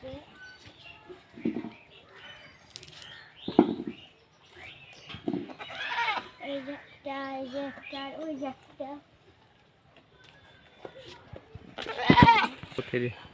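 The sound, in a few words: goats bleating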